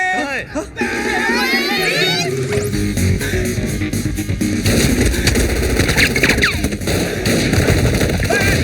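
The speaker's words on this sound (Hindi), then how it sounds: "गोलियां चल रही है" Chaotic comedy-scene sequence of rapid gunfire bursts and loud bangs mixed with shouting and crying voices, busy and continuous throughout.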